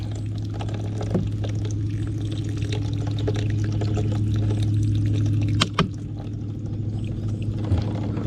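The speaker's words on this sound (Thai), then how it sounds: "ต้องรินน้ำออกครับดูสิปลาซิวเราจะได้แค่ไหนครับ" Water pours and trickles out of a fish trap made from an old plastic bottle, a steady close splashing stream with a low hum beneath and a couple of brief knocks near the end.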